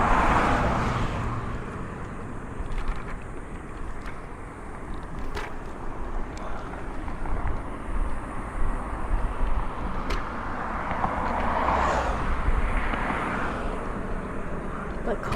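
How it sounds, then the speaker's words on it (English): Road traffic rolls past steadily at night in a city, with a continuous mid-distance vehicle rumble and swells of passing cars, a few sharp clicks, and a voice speaking over it at times. "The cars are passing by."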